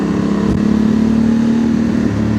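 A 2025 Honda Transalp motorcycle fitted with a Dominator MX2 slip-on exhaust, idling or running steadily with a loud, close, throbbing drone that stays at an even level.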